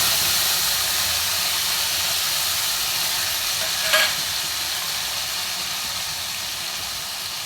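Cumin, garlic and tomatoes fry in a pan for a cauliflower curry, giving a steady close sizzle and hiss throughout, with one brief clink of a utensil partway through.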